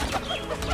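Pigeons in a rooftop breeding loft give a close, continuous run of soft cooing and murmuring calls lasting under a second, with no one speaking.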